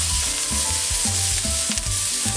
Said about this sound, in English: Takes a little bit of cooking, the black bean and garlic paste.